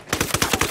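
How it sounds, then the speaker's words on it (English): Rapid automatic gunfire in Ghost Recon Wildlands: about seven quick, loud shots in an even stuttering burst, close and unaccompanied by speech. "Opening fire."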